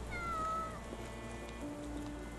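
A cat in the Sherlock Holmes The Awakened video game gives a soft, faint meow over low, steady game ambience, with a second quieter meow-like tone shortly after.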